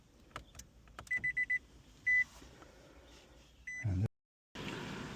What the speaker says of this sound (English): I'm going to power up the vehicle. Just make sure it's got power on the radio head.